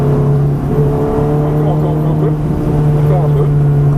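Ferrari F430 engine on a track, a loud, steady, close drone whose pitch climbs slightly in places as it pulls up through the gears, with a faint voice underneath.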